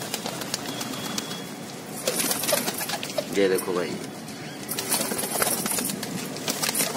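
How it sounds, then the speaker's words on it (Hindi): Border pigeons for sale coo and stir nearby in a loft, with soft rolling coos and some wing flutters while someone talks over them. "ये सब बॉर्डर वाले कबूतर है, नया लोट आया"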